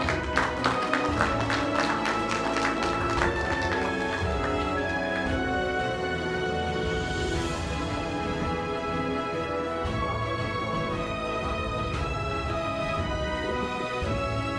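Congratulatory applause fills an award ceremony for a regional revitalization prize, a steady dense wash of clapping from a large audience, with music playing underneath throughout.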